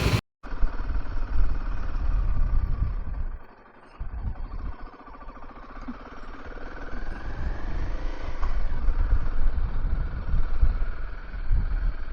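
A Royal Enfield Himalayan 450 motorcycle engine idles upright while warming up, a steady close low rumble with a short dip partway through, continuing evenly to the end.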